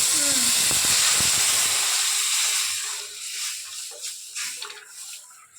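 Hot tempering hits buttermilk mixed with ground masala for a roasted horse gram buttermilk curry, bursting into a loud, steady sizzle that fades gradually to softer crackles and spits over a few seconds.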